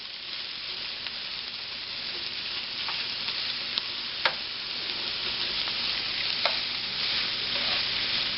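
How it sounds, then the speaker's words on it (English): Hamburger meat browns in a greasy pan with a steady, close sizzle throughout, broken by a few sharp clicks and scrapes of stirring. "Now for the hamburger, as you guys can tell, it's getting brown."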